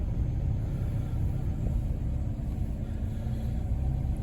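A 2008 Vauxhall Astra idling just after a cold start on a freezing morning, a steady low engine rumble close by with no talk.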